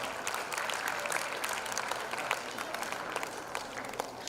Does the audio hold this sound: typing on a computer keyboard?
no